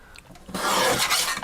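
Craft paper piece being trimmed to size with a paper trimmer at a craft table, a short quiet scrape followed by a louder steady rasping slide of the blade lasting about a second, close by, with no talking.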